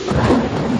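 Heavy rain pours during a storm over a road flooded nearly knee-deep, a loud, dense, steady wash of broadband noise filling the short moment with no voices.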